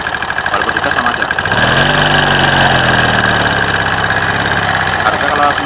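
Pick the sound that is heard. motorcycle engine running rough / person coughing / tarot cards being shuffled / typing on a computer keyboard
motorcycle engine running rough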